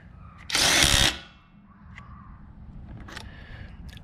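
A Ridgid 18-volt sub-compact brushless impact wrench tightening a nut fires one loud half-second burst, followed by quieter clicks and handling noise.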